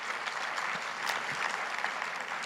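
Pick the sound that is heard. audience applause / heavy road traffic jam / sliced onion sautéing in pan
audience applause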